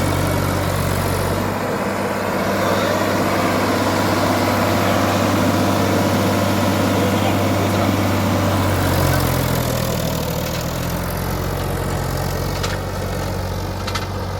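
A diesel power tiller ploughs a farm field, its engine chugging steadily and loudly throughout with a low rumbling drone that shifts slightly in pitch partway through, close to the listener.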